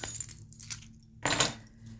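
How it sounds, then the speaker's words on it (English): Keys jangling inside a Vera Bradley bag's front flap pocket, two brief metallic clinking bursts separated by a quiet gap, close and crisp. "I've got keys"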